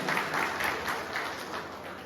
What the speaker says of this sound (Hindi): मैं चाहता हूँ आप लोग एक बार जोरदार ताली से प्रवीण जी के इस कदम का उत्साहवर्धन के लिए एक बार जरूर ताली हो जाए